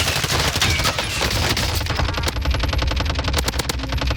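Rapid automatic gunfire in a video game shooter, with loud, close, continuous bursts of shots filling the whole stretch and a steady rattling rhythm toward the end.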